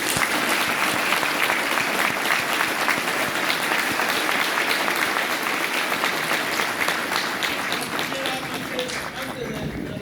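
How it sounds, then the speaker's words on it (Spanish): A large audience at a talk applauds steadily for about ten seconds, a dense, even wash of clapping that stays loud and tapers slightly at the end. "Les pido un aplauso grande."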